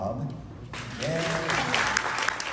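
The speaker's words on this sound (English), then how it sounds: "another round of applause for Rob" Audience applause at a cabaret evening, starting abruptly after a moment of quieter room sound and continuing moderately loud to the end, with a voice briefly audible in the mix.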